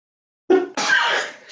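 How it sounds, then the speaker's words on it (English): A single close, loud human sneeze, a sharp intake followed by a forceful burst, breaks a silence. "if I sneeze, it's going to be because I need to sneeze"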